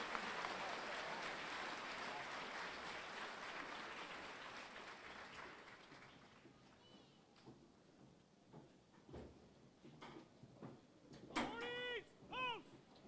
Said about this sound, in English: Please join me in a round of applause for our retirees and their families.